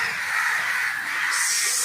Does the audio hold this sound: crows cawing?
yes